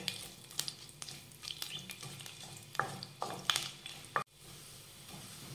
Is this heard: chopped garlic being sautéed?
yes